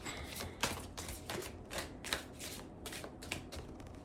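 Playing cards shuffled by hand, a quick series of crisp riffling bursts repeating steadily, close and fairly loud, with no talk.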